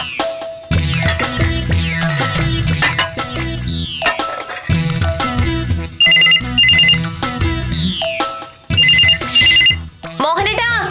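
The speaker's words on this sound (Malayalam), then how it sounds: "ഫോൺ" A telephone rings in repeated electronic ringtone bursts, loud and close, with short gaps between the rings.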